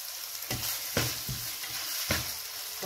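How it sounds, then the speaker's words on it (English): Garlic and scotch bonnet pepper frying in a pan for a Cameroonian/Nigerian meat pie filling, a steady close sizzle broken by several scraping stirs of a spoon, with no voices. "Continue to stir it up."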